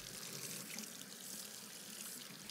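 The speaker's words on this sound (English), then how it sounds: "and then clean it with water." Water runs steadily from a tap onto an air conditioning filter being rinsed clean, a continuous broadband splash and trickle with no talk.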